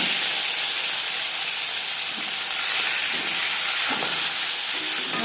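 Fish sizzling in hot refined oil, a steady dense hiss close up with faint pops and no talking.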